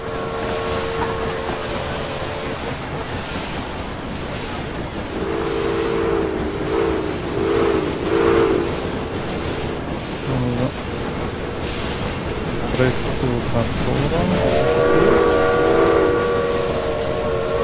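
Trains in the railway strategy game Railway Empire 2 at a busy Paris station, with a steady rumble of rolling stock and several drawn-out horn blasts sounding over the continuous rail noise.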